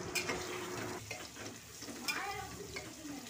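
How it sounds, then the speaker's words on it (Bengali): Onion fries in a pan with a torn bay leaf dropped in, a close sizzle broken by clattering stirs and spatula scrapes against the metal, lively and uneven over a few seconds. "পেঁয়াজটা ভাজতে ভাজতে এর মধ্যে একটা তেজপাতা ছিঁড়ে দিয়ে দিচ্ছি।"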